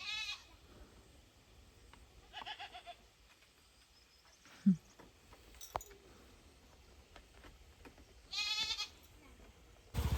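Goats bleat several times, some near and some farther off, over quiet outdoor background with faint clinks and occasional indistinct voices.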